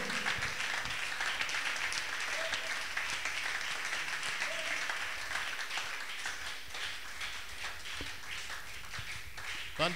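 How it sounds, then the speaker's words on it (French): A church congregation applauding during a Sainte-Cène seminar service, dense sustained clapping from many hands that fills the room continuously, with some voices mixed in. "Nous devrions nous lever pour acclamer à cause de toutes ces choses."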